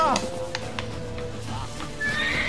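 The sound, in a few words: horse neighing in the video game The Witcher 3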